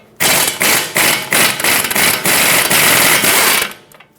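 An impact wrench hammers loudly in rapid bursts, close up, as two 21mm caliper bracket bolts held with thread locker are removed from the front brakes of a 2014-2018 GMC Terrain.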